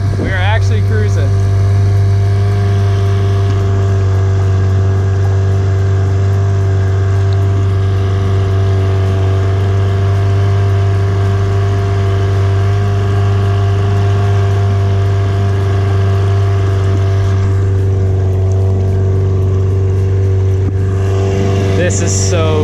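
An amphibious go kart driven by an outboard motor cruises on water, its motor holding a loud, steady, strongly tonal hum throughout. Excited voices talk over the engine noise now and then.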